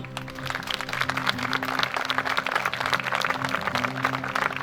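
A crowd applauds at the inauguration of a giant bicycle sculpture, with continuous, dense clapping held over a low, steady hum for several seconds.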